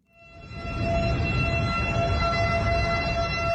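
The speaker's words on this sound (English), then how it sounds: "The sound of sirens puncture the quiet night on the island of Kharg." A loud, sustained air-raid siren tone swells up within the first second and holds steadily at night on Kharg Island, Iran, a droning multi-toned wail with rumbling noise underneath.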